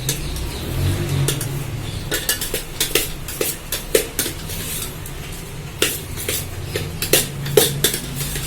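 Ragi flour is turned over in a pan, a spatula knocking and scraping against the metal in irregular bursts of clatter over a low, steady background.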